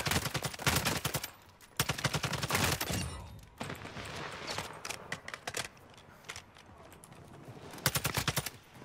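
Gunfire in the video game DMZ, rapid automatic bursts, loud at first and then continuing in sharper, more scattered shots.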